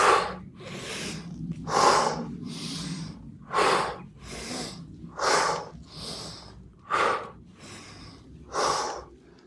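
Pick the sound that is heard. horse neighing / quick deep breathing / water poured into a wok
quick deep breathing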